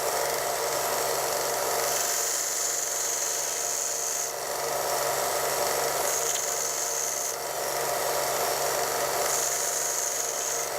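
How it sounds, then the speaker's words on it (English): Harbor Freight 1" x 30" belt sander grinding a piece of poplar wood, a steady close, loud abrasive rasp that runs continuously with brief dips as the board is shifted. "I've got a piece of poplar here and we'll see how it sands it."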